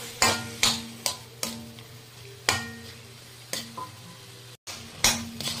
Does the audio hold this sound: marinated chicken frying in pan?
yes